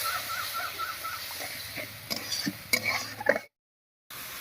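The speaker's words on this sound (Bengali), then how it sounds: "এবারে দেবো একটা টমেটো বাটা দিয়ে দেবো একটুখানি মশলা বাটা জল এবার একটু ভালো করে কষিয়ে নেব" Tomato paste, spice paste and water being sautéed in a pan for a Bengali pointed gourd dish, with soft scraping stirs and faint clinks of a spoon against the pan, then a brief silence before a low background hum returns.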